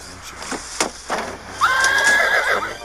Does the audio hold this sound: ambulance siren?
no